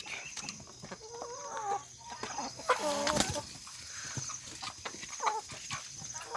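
Laying hens on a backyard farm cluck and squawk close by in short irregular bursts, with a sharper cackle in the middle and a faint steady hum behind.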